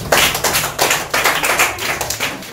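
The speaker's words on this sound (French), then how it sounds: "Applaudissez." A school class in Mbuji-Mayi claps hands on the first day of the school year, giving a rhythmic run of sharp, close claps in short bursts, with no talking over them.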